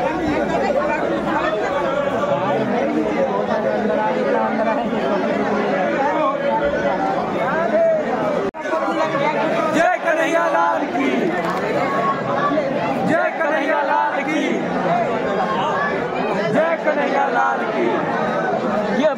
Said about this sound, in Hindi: यहाँ पे दर्शन के लिए भाई देखो भीड़, देखो भीड़, देखो पूरा भीड़ है भाई